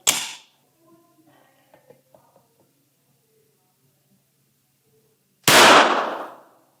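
Smith & Wesson M&P 2.0 pistol setting off a live primer in a spent shell casing: a sharp close bang near the start, faint clicks and handling noise, then a second loud, longer burst near the end.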